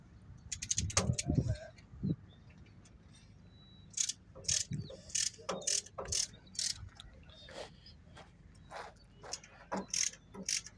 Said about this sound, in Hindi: बस टाइट कर रहे हैं पैप, ये हो जाएंगे।